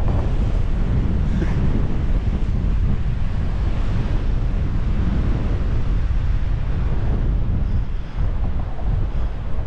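Strong winter wind buffeting the microphone in a constant roar by Saltburn pier, with the wash of sea surf underneath and no talking.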